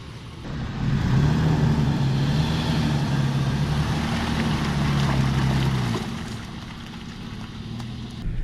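A Toyota Tacoma truck driving off-road on a trail gives a loud, steady engine drone with a low hum throughout, easing slightly near the end, with no talking.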